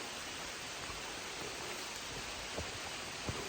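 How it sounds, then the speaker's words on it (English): Steady rain falls on a hiking trail in the mountains, a dense even hiss heard alone and close, with a few faint drips or taps near the end. "the rain has been on us for about 10 minutes"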